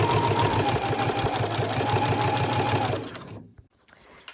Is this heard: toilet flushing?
no